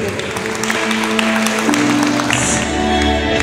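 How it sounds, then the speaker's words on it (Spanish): Steady applause from a party crowd at a quinceañera, continuous clapping under loud music with tonal lines throughout. "Fuerte los aplausos, qué bonito"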